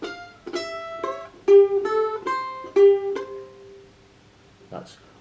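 Close mandolin picking the next part of a melody, about eight clear plucked notes in quick succession that end after three seconds and fade out, followed by a brief soft noise.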